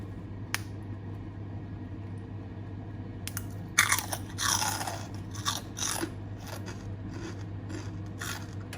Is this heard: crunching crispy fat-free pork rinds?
yes